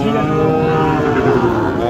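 A Sahiwal bull calf at a cattle market moos loudly and close by, one drawn-out low bellow with no other sounds.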